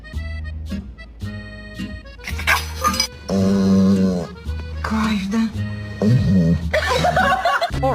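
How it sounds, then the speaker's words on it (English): A dog barks and vocalizes in short bursts mixed with a person chuckling and speaking nearby, the sounds close and fairly loud, alternating and overlapping. "Bark at your dog."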